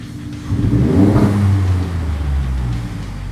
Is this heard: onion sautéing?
no